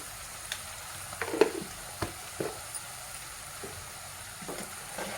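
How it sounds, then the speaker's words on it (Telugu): Wheat-flour dough balls for Menthe kadubu fry in oil with a quiet, even sizzle, punctuated by a few sharp pops and clatters of a spoon or pan, no voices present. "ఆయిల్ పైకి తేలే వరకు మంచిగా ఫ్రై చేసుకోవాలి"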